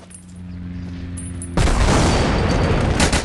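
A grenade blast in the World War Heroes mobile shooter, arriving as one sudden loud explosion after a quieter humming stretch, then a sustained roar of debris and gunfire.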